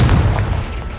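In Hogwarts Legacy, a Confringo spell explosion bursts with a loud, close boom that rumbles low and decays within a second.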